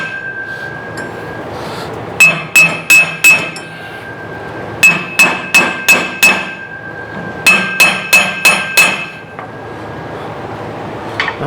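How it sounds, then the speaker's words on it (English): A brass hammer strikes metal in three bursts of four or five quick ringing taps, with a steady tone humming underneath. "And then I like to use my brass hammer for this."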